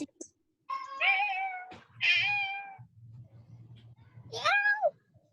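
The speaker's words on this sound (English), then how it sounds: "This cat is meowing." A cat meows three times in drawn-out, rising-and-falling calls, close and clear, over a low steady background hum.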